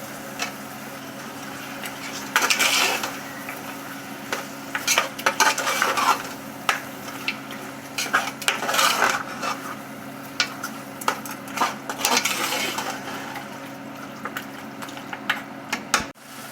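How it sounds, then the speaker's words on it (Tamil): Mutton is stirred and fried in oil-separated spice paste for Muslim-style biryani, with a steady run of scraping, clattering spoon-on-pot strokes over a low sizzle, close and moderately loud with no talk. "இப்போது இந்த பேஸ்ட்லேருந்து நல்லா எண்ணெய் பிரிஞ்சு வரப்போ நம்ம இந்த மட்டனை ஆட் பண்ணிக்குவோம்."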